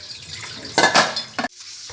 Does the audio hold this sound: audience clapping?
no